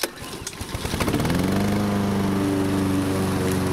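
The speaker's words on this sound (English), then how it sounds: "You now have to pull a lawnmower string instead of pressing a button." Lawnmower recoil starter string pulled: a few quick ratcheting rasps from the cord, then an engine catches and settles into a steady, loud, droning idle with no talking.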